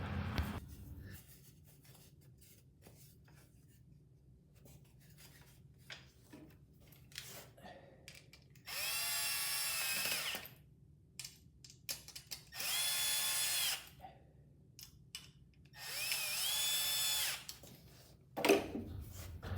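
Power drill driving screws to tighten a fence onto a carpenter's framing square, heard as three whirring bursts of a few seconds each, fairly close, with quiet handling noises and faint clicks between them.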